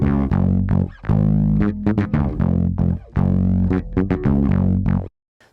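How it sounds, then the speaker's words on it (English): Electric bass guitar heavily overdriven and distorted, playing a gritty, buzzing line of sustained notes with brief gaps, loud and close, stacked in a layered recording before stopping abruptly near the end. "The real bass guitar has got a good amount of overdrive and distortion on it"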